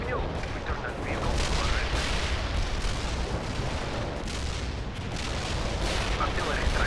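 Artillery barrage in the World in Conflict real-time strategy game, a sustained stretch of dense rumbling blasts and crackling fire that rolls on without pause for several seconds, with faint voices mixed into the din.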